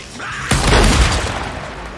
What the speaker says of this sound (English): I'm gonna shoot that fucking gas tank